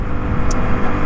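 A Honda Grom motorcycle ridden in traffic gives a steady, loud engine drone mixed with road and wind noise. There is no talking.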